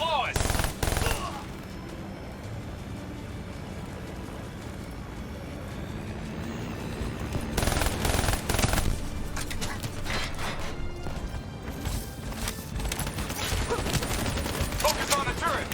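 Turret machine gun fire in Call of Duty: Black Ops 3 hammers out in sustained rattling bursts, close and loud, with heavy volleys near the start and again midway and toward the end, a voice calling out briefly over the fire.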